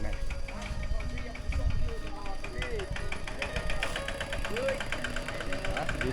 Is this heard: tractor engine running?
yes